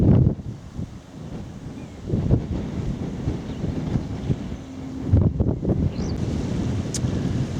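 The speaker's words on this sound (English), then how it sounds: "the wind is certainly a bit blowier than I was expecting" Strong wind buffets the microphone steadily on a coastal walk from Southbourne to Chichester, a constant loud rumble with gusts swelling and easing throughout and no talking.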